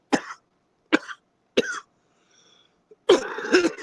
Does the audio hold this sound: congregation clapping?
no